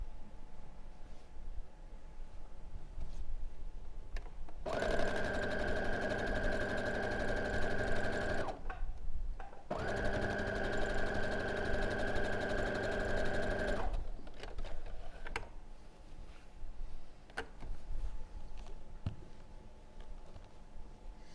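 A sewing machine runs steadily, stitching a quilt block seam in two sustained bursts of several seconds each, separated by a brief pause, with quiet room sound before and after.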